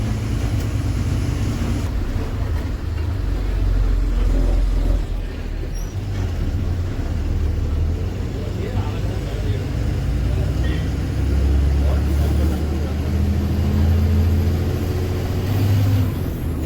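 A bus climbs the winding Dhimbham ghat road between Erode and Mysore, its engine rumbling steadily and loudly for the whole stretch, with road and traffic noise around it.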